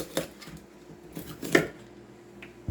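A knife chops the ends and leaves off a vegetable on a cutting board for a chicken casserole, giving a few sparse, close knocks and cuts at uneven intervals, with no talking.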